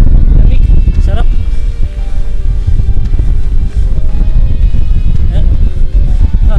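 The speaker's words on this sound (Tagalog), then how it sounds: "Ayan, hangin na lakas." Strong wind buffets the microphone on an open hillside road, a steady loud rumble that runs the whole time, with people talking over it.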